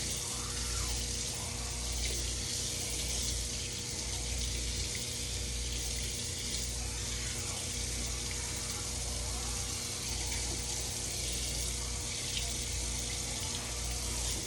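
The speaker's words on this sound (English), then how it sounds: "Okay, so I'm just rinsing it over on my sink here." Tap water runs steadily into a sink as a Cricut cutting mat is rinsed of soap suds, a continuous close hiss and splash with no talking.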